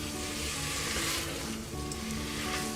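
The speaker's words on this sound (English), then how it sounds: "I'm going to add the meat to the pan. It's 250 grams of mince, and you can either use beef or lamb." Beef or lamb mince browns in a hot pan for chilli soup, giving a loud, steady hiss and crackle that goes on without a break, close by and with no talk over it.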